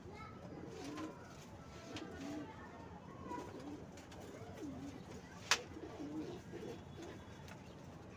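Pigeons in a rooftop loft cooing softly and repeatedly in low murmuring phrases, faint and close, with a brief sharp click partway through and a voice talking over them.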